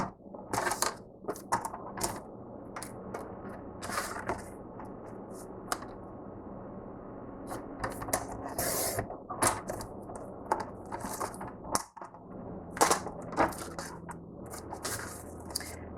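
Scissors or a paper cutter slicing through two stacked sheets of decorative paper for mini album pages, a series of crisp, close snipping and crunching strokes in irregular bursts, with quiet handling sounds between cuts.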